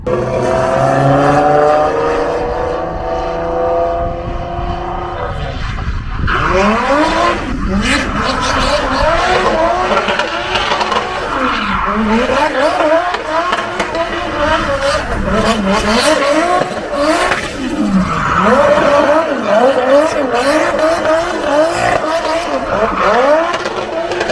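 An ethanol-fuelled car driven fast around a race track, its engine revving and falling through repeated gear changes and swooping pitch, loud and continuous, with someone talking over it.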